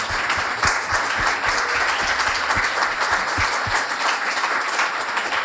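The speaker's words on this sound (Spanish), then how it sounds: "Un fuerte aplauso, por favor, para María Olivia" A studio audience applauds guest María Olivia Mönckeberg on a television interview program, giving a loud, continuous round of clapping with a few sharper individual claps standing out, lasting about five seconds.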